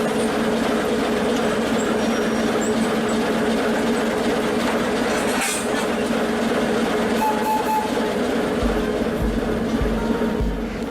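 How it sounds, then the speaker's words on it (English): A passenger train travels from Lviv toward Kharkiv in Ukraine, its steady rolling rumble and rail noise filling the space continuously from inside the carriage, with faint clicks near the end. "the train hops between electrified and non-electrified sections"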